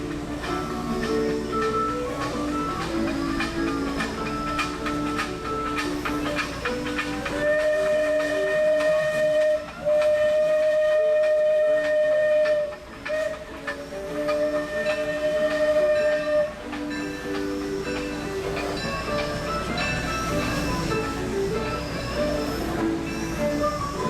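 A steam-powered riverboat rumbles steadily while a long whistle sounds repeatedly, sustained tones rising over the continuous chugging and rattle, on the Mark Twain Riverboat ride.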